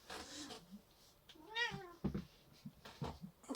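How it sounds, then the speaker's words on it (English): A house cat meows repeatedly indoors, with several drawn-out, rising and falling cries close to the listener between short pauses. "Hang on, the cat's being annoying."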